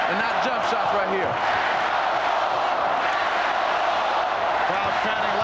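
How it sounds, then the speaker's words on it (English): An arena crowd at a 1993 NBA Finals game between the Bulls and Suns chanting "Let's go Bulls" in a steady rhythmic roar, with a commentator talking over it and a few basketball bounces audible. "Crowd chanting, "Let's go Bulls.""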